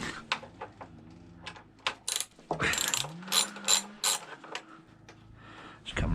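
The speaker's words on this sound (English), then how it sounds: "let's loosen off this pinch bolt" A ratchet loosening the pinch bolt on a Suzuki V-Strom 650 motorcycle, with a series of close, crisp metallic clicks in quick bursts, a brief whirring spin and a few louder clacks in the middle, with no talking.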